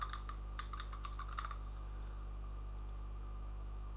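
Typing on a computer keyboard while writing JavaScript code, a quick burst of soft clicky keystrokes for about a second and a half, then a faint steady hum carries on alone.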